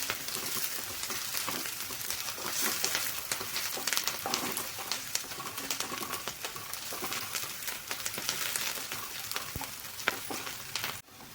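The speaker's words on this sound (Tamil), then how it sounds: "வெங்காயமும் பச்சை மிளகாயும் போட்டு நல்லா வணக்கிக்கோங்க. எண்ணெயிலே வெங்காயத்தை வணக்கிக்கோங்க." Sliced onions and green chillies sautéing in hot oil give a steady, close sizzle and crackle with occasional stirring scrapes, continuous throughout, with no talk.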